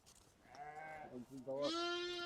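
Lambs and sheep bleating on a Turkish livestock farm, a few short wavering bleats close by, the last one higher and rising.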